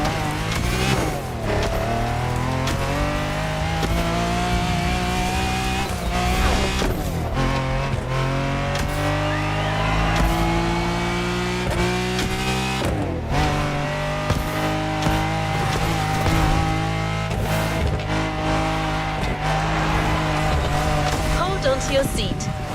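A Lamborghini Huracan in The Crew Motorfest racing game revs and accelerates with a loud, steady engine roar, pitch rising and dropping through gear changes, with a voice talking over it.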